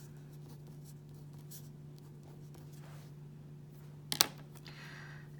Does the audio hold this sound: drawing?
yes